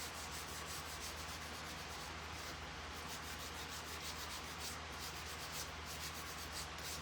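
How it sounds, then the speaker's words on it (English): A dull nail file rubs along the chalk-painted edges of a wooden watermelon craft, producing a steady, close scratching that runs without pause across the whole stretch, with no talking. "I'm just taking this nail file that's already pretty dull, and I'm just kind of sanding on the sides"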